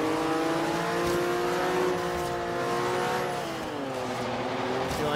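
A Porsche 911 Turbo S in the Forza racing game, its engine droning loud and steady with rising and falling pitch as it revs, with no talking over it.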